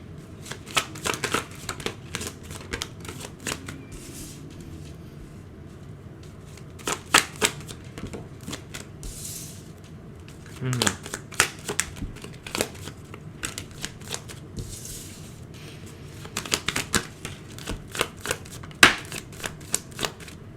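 Tarot cards are shuffled in repeated quick riffling bursts, sharp flutters separated by short pauses, close and clear, with no talking.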